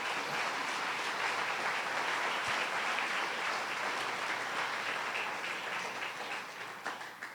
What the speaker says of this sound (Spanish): Dele un gran aplauso a nuestro Rey entonces